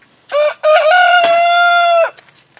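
A Delaware chicken crows loud and close, one short note and then a long drawn-out call, in a quiet backyard setting with no talking.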